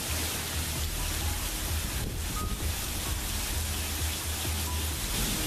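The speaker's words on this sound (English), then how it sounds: "Well, rain and more rain." Steady rain falls outdoors on Memorial Day during a stretch of stormy weather, making a constant dense hiss that stays even and unbroken throughout with no voices over it.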